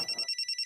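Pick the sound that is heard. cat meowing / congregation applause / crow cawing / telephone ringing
telephone ringing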